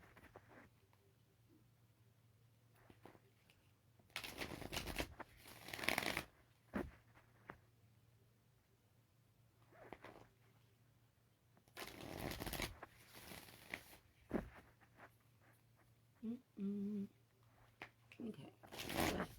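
Cards are shuffled before a reading is pulled, with bursts of riffling and flicking repeating every few seconds and quiet handling in between.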